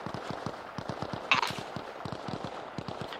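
Gunshots of an execution in the video game Arma Reforger, a long run of sharp, fairly regular cracks fired in quick succession at a moderate distance, with one brighter burst midway, heard alone.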